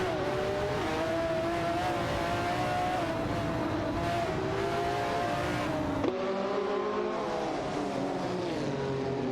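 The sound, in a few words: race car engines in a racing video game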